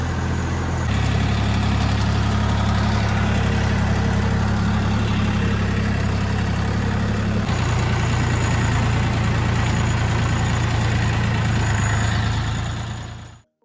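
A DTZ 5354 tractor engine runs in second gear while spraying foliar fertilizer on soybeans, producing a loud, continuous low drone that shifts pitch slightly partway through, then cuts off abruptly at the end.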